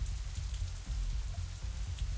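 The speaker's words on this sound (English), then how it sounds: "It isn't even raining that hard anymore." Steady rain falls in the visual novel Katawa Shoujo, a dense, even wash of drops pattering on surfaces with low rumbling undertones, continuous throughout with no voices.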